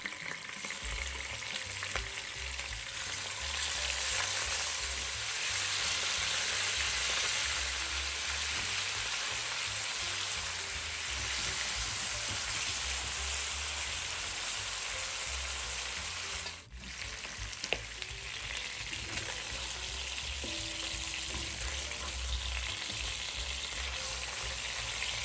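Pork belly sizzles and fries steadily in a pan, a dense continuous crackle with occasional stirring, close and fairly loud throughout with no talking.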